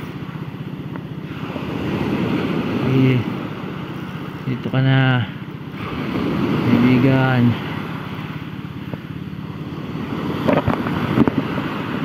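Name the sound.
ocean waves and wind at sea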